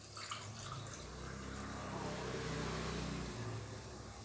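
Water pours steadily from a tumbler into a pressure-cooker pot of chicken biryani, a soft continuous gushing that stays faint and even throughout.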